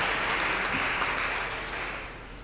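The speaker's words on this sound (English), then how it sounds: "a big round of applause for trumpet solo and arranger, Mr. Charlie Barber" An audience at a school district jazz festival applauds a trumpet soloist and arranger, a soft, fairly distant wash of clapping that fades gradually over a couple of seconds.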